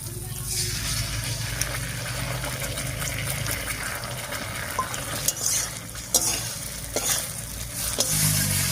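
Ground spice paste hits a pan of frying rohu fish curry with a loud, continuous sizzle, while stirring scrapes and clatters rise over it toward the end.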